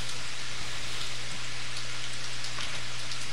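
Steady, dense rain hisses evenly throughout as a tabletop role-playing sound effect, a continuous close patter of drops with no voices over it.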